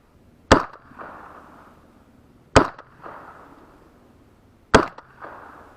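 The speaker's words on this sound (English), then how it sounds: ".556 unsuppressed at the muzzle." Unsuppressed 5.56 Bushmaster rifle recorded at the muzzle: three sharp, loud gunshots about two seconds apart, each followed by a short rumbling echo.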